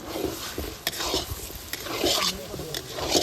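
Masala being stirred and sautéed in a pan at an outdoor jungle picnic, with scraping spoon strokes and soft sizzling at close range, plus faint background voices.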